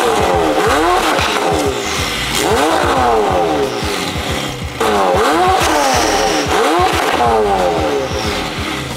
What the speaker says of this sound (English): The Ryft exhaust onto 720S.